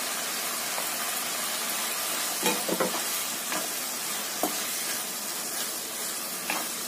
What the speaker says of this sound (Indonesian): Ini sampai layu bawang bombay-nya dan bumbu lainnya itu matang.